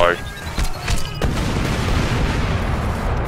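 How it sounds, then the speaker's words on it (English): Cluster grenade explosions in the video game Crackdown: one loud blast followed by a dense run of rumbling booms that merge into a heavy, sustained roar, close and loud. "It's a cluster grenade. So it explodes and then there's like six other explosions."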